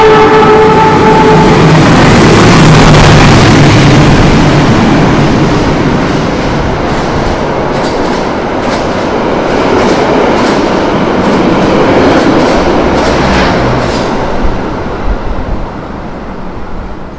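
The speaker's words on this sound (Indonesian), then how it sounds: "Yang akan melintas langsung adalah kereta api Argo Dwi Pangga dari Stasiun Gambir tujuan Stasiun Solo Balapan." Argo Dwi Pangga express train on the Gambir to Solo Balapan line passing close by at speed, a loud sustained roar and rush with rhythmic clacking of wheels over rail joints, fading slightly toward the end.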